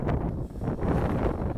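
Gusty wind rumbles against the microphone in uneven low bursts, fairly loud and constant throughout the short stretch.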